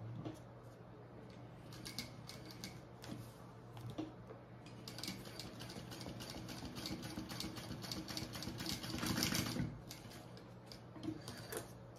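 Sewing machine stitching a seam on a waist pack, a faint run of rapid mechanical ticking and whirring that builds into a denser burst near the end before easing off, with no voices.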